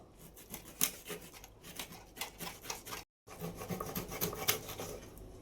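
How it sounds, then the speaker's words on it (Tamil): A knife cutting kilathi fish into small pieces, repeated rough rasping strokes with scraping bursts, close and fairly loud, broken by a short pause midway. "நல்ல கஷ்டம் அந்த மீன் அறுக்கிறதுக்கு"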